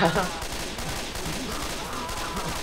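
Friendly fire in the zombie shooter Left 4 Dead 2, a dense, continuous wash of gunfire at moderate level with a voice briefly heard at the start.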